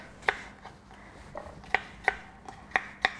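A knife cuts apples into cubes for an apple and blackberry crumble, giving a series of crisp, close, irregular chops on a board with short pauses between strikes.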